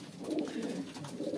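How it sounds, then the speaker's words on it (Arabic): Carrier pigeons coo softly in a loft, a low steady murmur of overlapping throaty calls, close by and quiet. "هذا هو حمام الانتاج اللي عندي"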